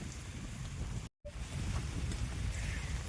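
Heavy rain pours steadily outdoors where people shelter beside a parked Activa scooter, a dense broadband wash with a brief dropout partway through, no talk.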